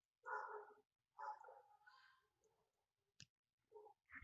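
A few distant dog barks from the street in short bursts separated by silence, faint and outdoors, with a sharp click partway through.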